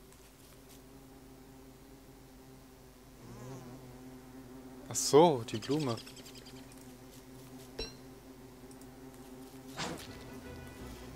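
Bees buzz in the video game Don't Starve, a droning insect hum running under the game sounds. A loud, wavering swarm swell comes mid-clip, with brief talk and a few sharp effects around it.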